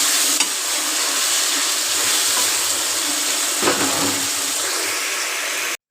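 Chopped tomato fries in a hot pan over browned garlic and ginger for an Assamese chicken curry, giving a loud, continuous sizzle with occasional stirring scrapes, close up and uninterrupted until it stops abruptly at the end.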